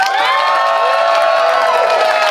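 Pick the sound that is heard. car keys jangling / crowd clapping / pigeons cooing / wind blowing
crowd clapping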